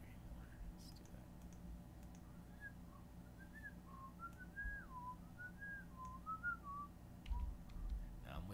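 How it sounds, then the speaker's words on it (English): A person whistles a meandering song melody close by, with soft clicks and keyboard tapping underneath during a live music-making session. "Now I'm whistling a stupid song."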